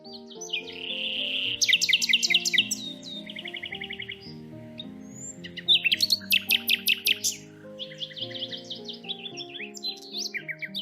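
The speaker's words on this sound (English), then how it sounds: "The nightingale is a small insectivorous bird best known for its powerful and beautiful song" A common nightingale sings alone in a run of rapid, varied phrases, trills and repeated notes, loud and near, over a soft, steady low musical backing.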